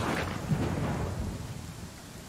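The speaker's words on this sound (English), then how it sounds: "It's been raining a lot in game." Rain pours steadily with a low rolling rumble of thunder in the Pathfinder: Kingmaker video game, a dense hissing wash that fades slightly toward the end, with no voices.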